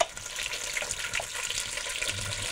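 Fish heads and bones brown in a pan for a fish soup, giving a close, steady sizzle with crackling pops and faint stirring sounds, no voices present.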